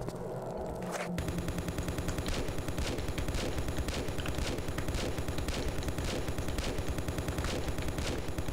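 Gunfire in the video game Tomb Raider 4: The Last Revelation, a rapid, regular string of sharp shots repeating steadily for several seconds after a short lead-in, loud and close.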